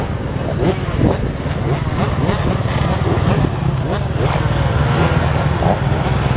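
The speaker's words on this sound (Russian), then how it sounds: "сейчас на новом мотоцикле, на КТМе" KTM motocross motorcycle engines at a cross-country race start at Kuryanovo, a dense roar of several bikes revving together, loud and continuous throughout with shifting pitch sweeps.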